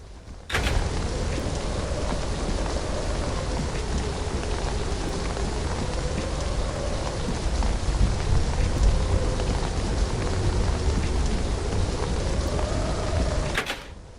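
Steady rain pours down in a thunderstorm in the video game Aquacreep Alpha, a dense unbroken hiss with low rumbling swells, loud and continuous with no speech.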